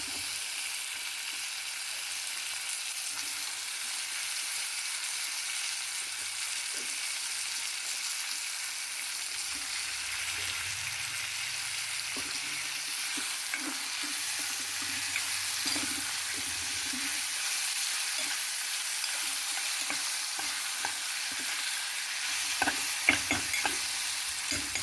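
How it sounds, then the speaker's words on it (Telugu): Chopped tomatoes frying with onions in a pan for a long bean curry: a steady soft sizzle throughout, with occasional light spatula scrapes and clicks toward the end, close and even, no talking. "ఇది ఇప్పుడు టమాటాలు మెత్తగా వేగనివ్వాలండి"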